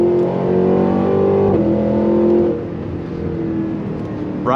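The engine of a 2023 Cadillac Escalade V SUV accelerating on throttle, a loud close growl with rising harmonics that eases briefly and then climbs again as it pulls through a bend.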